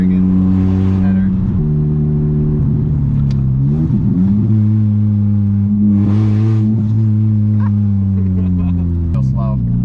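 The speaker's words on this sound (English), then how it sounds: "It's idling really high" High idle from a second-generation Mitsubishi Eclipse engine with a straight header, a loud steady harmonic drone that shifts pitch slightly while people talk over it.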